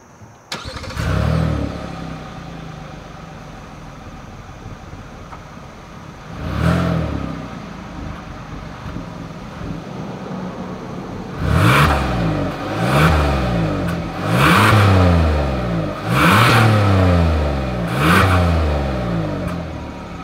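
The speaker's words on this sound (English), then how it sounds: "As always, here is that exhaust clip." A 2021 Hyundai Palisade SUV engine starts with a burst, settles into an idle, then revs hard several times in a row, the exhaust rising and falling loudly nearby.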